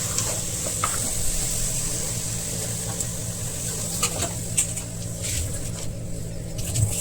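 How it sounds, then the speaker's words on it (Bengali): Chicken frying in a pan with whole cumin seeds and bay leaf, giving a steady close sizzle broken by occasional sharp scrapes and taps of stirring, with no talking. "এটা ভালো করে ভাজা হয়ে এসছে"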